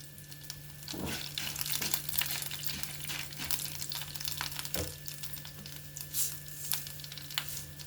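Urad dal, chana dal and dry red chillies sizzle steadily in hot oil for a Telugu-style mango semiya pulihora tempering, with a continuous crackling fry and occasional small pops and stirring sounds, fairly close and without talk.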